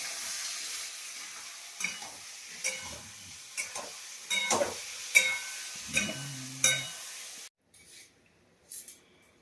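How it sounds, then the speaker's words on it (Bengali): Greens for shak chorchori, with peas added, are sautéed in a kadai, giving a quiet sizzle broken by repeated scraping stirs of a spatula. The sound drops away near the end before a last couple of brief scrapes. "এটা ভালো করে কষে নিই।"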